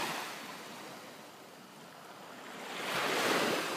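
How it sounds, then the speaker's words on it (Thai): Small ocean waves wash onto a beach at Bang Boet in a steady surf hiss with light wind, swelling louder toward the end. "วันนี้มีคลื่นเล็กน้อยนะฮะ"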